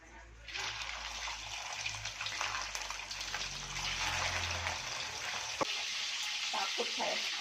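Loud, steady sizzling of eel frying in hot oil, crackling continuously close by, with a faint low voice early on.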